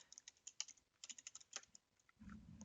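Fast typing on a computer keyboard while working in Windows 10, a close run of quick irregular key clicks that slows and stops, then a low rumble of background noise.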